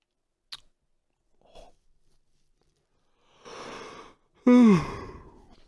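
A person yawns while playing Five Nights at Freddy's 2 late at night, a drawn-out breathy yawn with a falling vocal tone that starts loud and then fades, after a few small mouth sounds in near silence.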